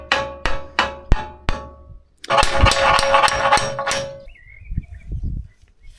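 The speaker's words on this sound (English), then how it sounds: "sometimes just all you need is a bigger hammer" A bigger hammer strikes metal on a Massey tractor loader, four sharp ringing blows in a steady rhythm, followed by a stretch of dense metallic clatter and scraping, then quieter low knocks.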